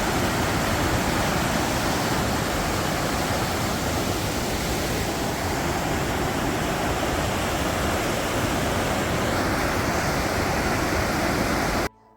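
A waterfall in a Swiss village roars as a dense, steady wash of falling water, loud and close, continuing unbroken without voices until it cuts off abruptly at the end.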